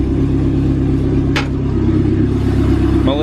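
A Dodge Caravan fitted with a swapped SRT4 engine idles with a steady, loud rumble that climbs into a rising rev near the end, with a brief clatter partway through.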